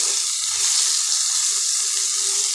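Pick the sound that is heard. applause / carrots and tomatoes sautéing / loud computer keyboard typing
carrots and tomatoes sautéing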